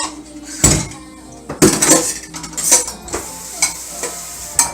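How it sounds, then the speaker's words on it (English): A spoon stirring vegetables in a cooking pot, with several loud metallic clanks and scrapes at irregular intervals, close and alone. "Once I get that in there real good, mixed around, then I'll start dumping in all the other vegetables."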